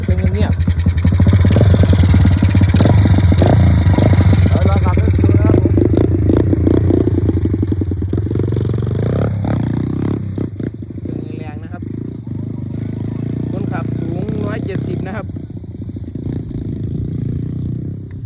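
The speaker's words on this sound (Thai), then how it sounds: "เครื่องฟิตสตาร์ทติดง่ายนะครับ" A GPX LJR125 dirt bike starts and idles loudly up close, then revs and pulls away into a steady, fading engine drone with some clatter, while someone talks over it.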